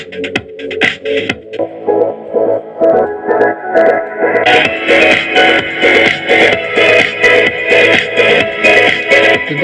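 Rhythmic music with a pulsing beat plays loudly through a homemade Bluetooth audio amplifier and speaker box. The sound is continuous and slightly boxy, and no one speaks over it.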